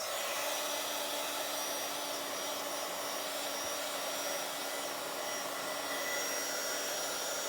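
A hair dryer blowing on a Bible journaling page, a loud steady whooshing hum held close and unbroken for the whole stretch, with no talk.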